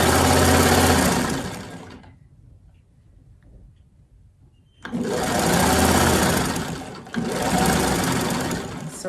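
A sewing machine stitches fabric in two loud, steady bursts with a quiet pause between them, whirring continuously at close range with no talking.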